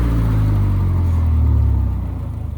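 Generator engine running at full RPM, a steady loud low drone and rumble that holds, then begins to falter and waver as it is shut off near the end.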